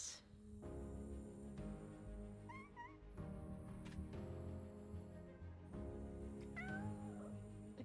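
Cats meowing in PowerWash Simulator 2, a few short rising meows standing out over a steady, dense bed of game music and ambience, fairly close and clear.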